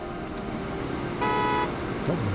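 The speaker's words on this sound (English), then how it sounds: "Oh, it actually honks." An early diesel train in the Transport Fever video game sounds a single steady horn blast of about half a second, clear over a continuous low rumble of game ambience.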